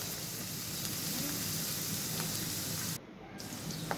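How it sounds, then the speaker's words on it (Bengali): Chopped onion frying in hot oil in a pan while being stirred, cooking for Mymensingh-style chepa shutki, gives a steady, close sizzling hiss that dips briefly near the end, with faint voice murmurs underneath. "তেলটা গরম হয়ে গেলে দিয়ে দিব পেঁয়াজ কুচি, এখন এটা নাড়াচাড়া করে আমি ভেজে নিব।"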